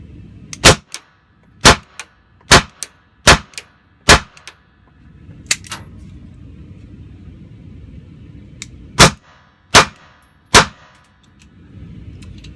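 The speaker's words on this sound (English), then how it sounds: "5 shots strong hand only with a positive grip on the gun, then 5 shots weak hand only, also with a positive grip on the gun." A Beretta PX4 Compact pistol fired on a range, eight sharp, loud shots: five in a quick, evenly spaced string, a pause, then three more, with no talking.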